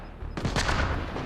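A grenade in Mass Effect Andromeda goes off with a sudden loud, close blast after a brief quiet moment, then a rumbling roar and crackle that carry on to the end.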